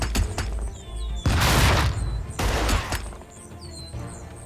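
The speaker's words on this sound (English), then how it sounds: "the explosion is actually too big." Two big, loud explosion bursts go off in the tactical video game Lethal Tactics, each a broad roaring blast, among scattered gunfire-like cracks and faint high whistling effects.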